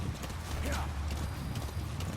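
Hoofbeats of the companion horse D-Horse galloping in the video game Metal Gear Solid V, a rapid rhythmic clip-clop with a brief whinny, under a voice talking.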